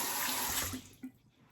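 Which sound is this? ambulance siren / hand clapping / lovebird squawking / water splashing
water splashing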